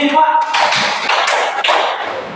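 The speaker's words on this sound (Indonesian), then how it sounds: "Tepuk tangan buat Pak Hidayat." A short burst of applause from a group in a meeting room, with several rhythmic clapping waves over about two seconds and a voice at the start.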